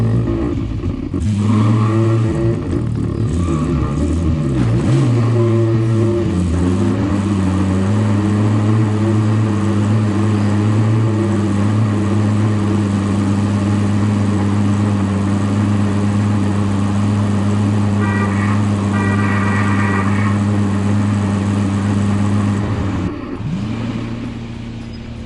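Continuous car engine drone while driving in Warzone, a steady low hum with shifting pitch as it revs early on, then holding level for a long stretch before easing off near the end.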